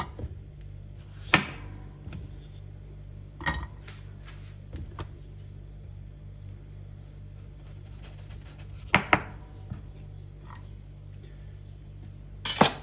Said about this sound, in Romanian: Vom lua dovlecelul nostru, i-am spălat bine înainte, tăiem capetele.